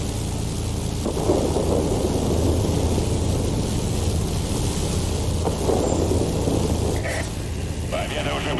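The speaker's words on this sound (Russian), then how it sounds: "Слишком сильная буря!" A heavy thunderstorm in the video game World of Warplanes, with a loud continuous roar of rain and rumbling thunder filling the whole stretch, close and dense, with a voice speaking faintly underneath.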